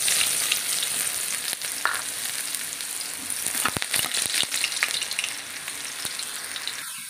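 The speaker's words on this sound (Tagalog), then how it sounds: "Pagsasabayin ko ng igisa itong garlic and onion." Garlic and onion sauté in a frying pan as the base for a sauce, a steady close sizzle with occasional stirring clicks.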